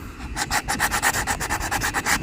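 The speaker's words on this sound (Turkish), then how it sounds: "Şimdi ben burayı zımparalamaya başladım." Sandpaper scrubs a deeply scratched boat hull surface in quick, even back-and-forth strokes, a loud, close, rhythmic rasping with no voices.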